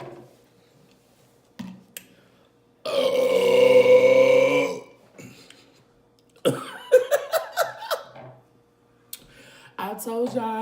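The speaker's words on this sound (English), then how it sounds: "I told y'all I had to burp." A person doing a Chipotle mukbang lets out a long, loud, close burp lasting about two seconds after a few small sounds, then laughs and chatters in bursts afterward.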